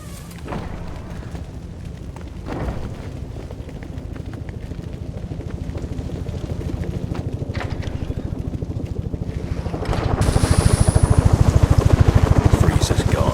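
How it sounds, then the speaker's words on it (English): A helicopter in the Batman: Arkham Origins video game thrums with a steady rotor chop beneath wind-like rushing noise, growing louder and harsher toward the end. "One of Penguin's goons will know where that chopper's going."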